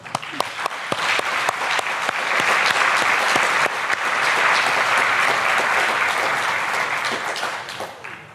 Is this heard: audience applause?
yes